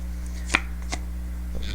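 A deck of tarot cards is shuffled, giving a few short soft riffling snaps over a steady low background hum, the sharpest one near the start.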